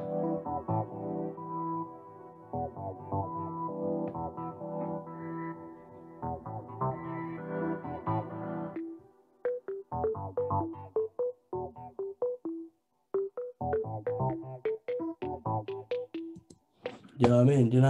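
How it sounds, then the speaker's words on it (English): Synth-only break from an electronic track: sustained layered synth chords for several seconds, then choppy gated synth stabs rising in pitch toward the end, played alone without drums. "So this break actually sounds like this with just the synths."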